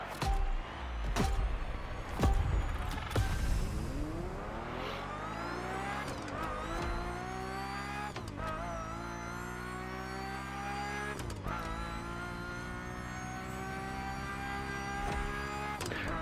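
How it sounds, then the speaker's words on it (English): A race car engine in the video game The Crew Motorfest, fully upgraded and customized, roars and climbs through the gears, with sharp shifts and rising whines, loud at first then steady and sustained. "It's got such an amazing sounding engine to it"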